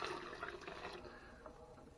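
Water pours from a container into a pot of mix on a stove, a quiet continuous splashing stream that fades slightly toward the end.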